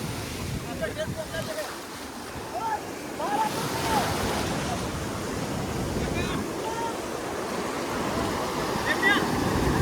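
Waves break along the shore at Mahabalipuram in Tamil Nadu, giving a constant roaring surf with wind noise on the microphone and faint voices of people nearby mixed in.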